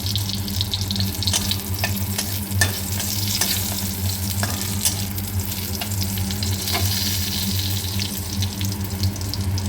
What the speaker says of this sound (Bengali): ওই তেলের মধ্যে দিয়ে দেবো একটা তেজপাতা, একটা ছোটো দারচিনির টুকরো আর একটু সাদা এলাচ